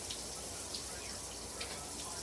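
Brass instrument valves and small pieces being rinsed off with water after soaking in soapy water, a steady faint running-water hiss with a few soft splashy bursts, close and alone.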